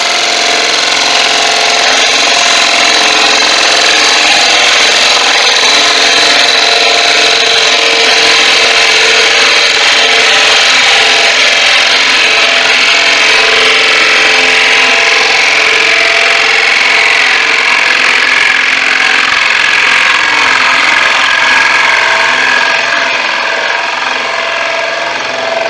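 A wood lathe turns a tiger wood platter as a tool takes a cut, a loud, continuous close-up whirring scrape with a steady hum, holding even for nearly half a minute before cutting off.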